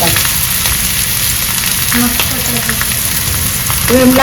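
Thalipeeth fries with oil on a tawa, making a loud, close, continuous sizzle with fine crackling throughout and a faint tonal hum underneath.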